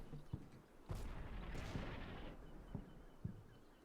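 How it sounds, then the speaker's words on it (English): Mortar shells striking the ground in the war game Combat Mission: Shock Force 2, a series of dull, thudding impacts spaced out, with a rumbling burst in the middle, distant and fairly faint. "So we do see the mortars actually hitting ground over here"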